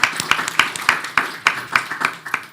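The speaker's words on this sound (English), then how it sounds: "Let's give a round of applause and welcome Andrew." A room full of people applauds in welcome at a public listening forum, brisk scattered handclaps close and moderately loud, with sharper individual claps popping out of the steady patter.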